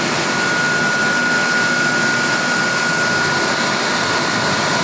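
A Pelton turbine runs under load on a laboratory test rig, giving a loud, steady broadband rush of water jets with a constant whine beneath it and no talking.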